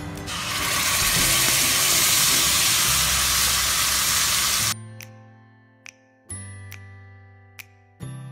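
Green chili paste and whole garam masala spices hit hot oil with a loud, bright hissing sizzle for several seconds, then it cuts to quieter clinks and taps.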